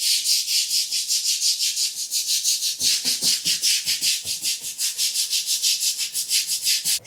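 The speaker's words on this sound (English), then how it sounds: "I'm going to start going through and scrubbing." A brush scrubs dirt with a wet Comet-and-water paste in fast, even back-and-forth strokes, making a loud, close, rhythmic rasping that runs throughout.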